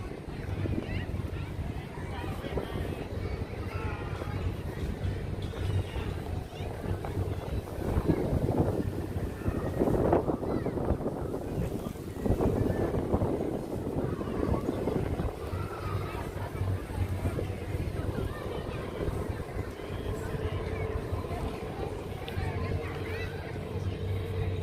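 Wind buffets a microphone on the Battery Park waterfront in New York City at sunset, a continuous low rushing roar that swells in gusts midway, with faint harbor ambience behind it.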